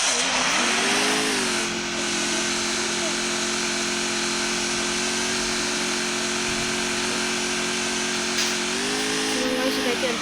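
A motorbike engine climbs uphill with a loud, sustained drone. Its pitch steps up early, holds steady under load, then rises again near the end.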